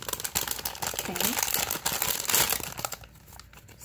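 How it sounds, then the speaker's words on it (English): Plastic wrap is peeled off a Littlest Pet Shop Lucky Pets blind bag, making close, busy crinkling and tearing sounds that thin out toward the end, with a voice briefly under it. "So it's wrapped in this plastic wrap."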